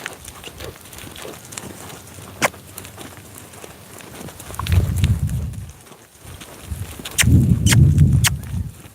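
Mousey, a horse working on the lunge, moves around with soft hoof thuds and two heavier bursts of footfalls, alongside scattered sharp clicks and quiet background noise.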